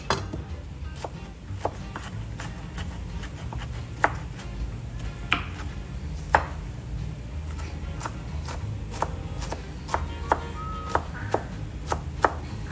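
A knife chops an onion finely on a cutting board. The cuts fall as a long run of crisp, evenly spaced taps over a low background hum.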